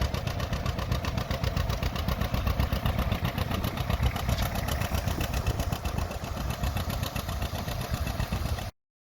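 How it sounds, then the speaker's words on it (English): An old John Deere tractor engine idles steadily while plowing in the Palouse, with an even mid-pitched chugging throughout, close and loud, ending abruptly. "The old John Deere's just idling along, smooth as silk."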